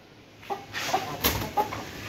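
A caged hen gives a few short, soft clucks at close range, spaced irregularly over a couple of seconds against a quiet room.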